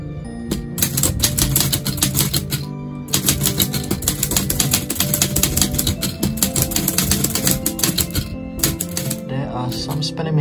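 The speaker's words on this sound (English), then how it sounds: "I hope you can see me typing." An Olivetti Lettera 25 manual typewriter from 1975, fitted with a fresh nylon ink ribbon and loaded with two sheets of A4 paper, clacks in fast, dense keystroke bursts. There is a brief pause partway through and a different mechanical sound near the end.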